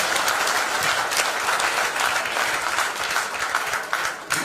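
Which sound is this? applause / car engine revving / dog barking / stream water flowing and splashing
applause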